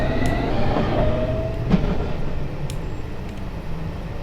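An underground train from the S8 stock in Train Simulator 2019 rolls past with a steady rumble, a squeal from the wheels and scattered rail clicks, with no talk over it.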